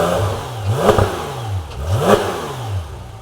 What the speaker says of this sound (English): Eddie, do you want to give it a few revs?